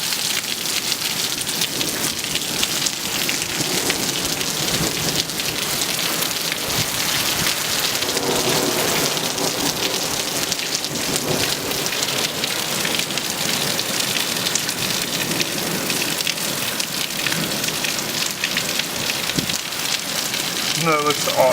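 Heavy rain pours down hard and steadily after a hail storm in Winkler, Manitoba, drumming on surfaces with a low rumble beneath, and occasional faint voices.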